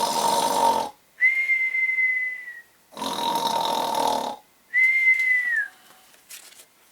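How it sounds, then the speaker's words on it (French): A cartoon sleeping elf snores loudly in a comic sound effect, harsh rasping inhales alternating with long high whistling exhales, repeated twice and close up. "Comme il ronflait bruyamment"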